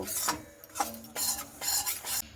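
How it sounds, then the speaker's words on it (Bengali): Rice flour and semolina are stirred and dry-roasted without oil in a pan, giving repeated scraping and rasping strokes of a spoon against the metal, close and fairly loud, with short pauses between strokes. "এইভাবে খুব সুন্দর করে চালেরটার সঙ্গে আর সেই সুজিটার সঙ্গে এইভাবে একটু নাড়াচাড়া করে নিচ্ছি"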